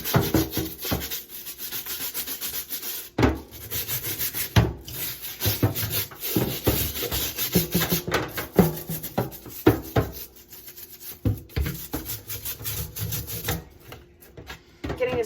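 A brush scrubs a GE UltraFresh dryer lint filter mesh, with dish soap added, in a run of close, steady rubbing strokes and brief pauses, with no talk.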